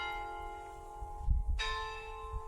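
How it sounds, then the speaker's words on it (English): Church bells ringing on the hour, captured in a field recording, with sustained ringing tones that fade briefly and then return with a fresh strike, over a low rumble of outdoor background noise. "they've collected the bells ringing on the hour."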